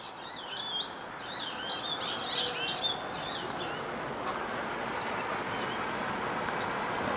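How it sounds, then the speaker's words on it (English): Many birds chirp and call together in a morning outdoor setting beside a creek near a yacht club, with bright repeated tweets louder in the first few seconds before settling into a steady, softer chorus over background ambience. "Listen to the birds up there."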